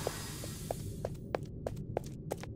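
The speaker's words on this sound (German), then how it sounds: "Was sind das für Schritte?" Footsteps in a Poppy Playtime Chapter 2 horror video game, about eight evenly spaced soft thuds walking at a steady pace over a low constant hum, fairly close and alone without talk.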